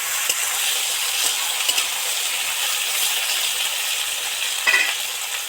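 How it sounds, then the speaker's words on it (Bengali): Steady hiss and crackle of mixed vegetables, including pointed gourd, okra and ridge gourd, frying in hot oil, continuous throughout, with a few faint clinks of a utensil against the pan. "ভালো করে পটলের সাথে একসাথে ভাজতে থাকবে"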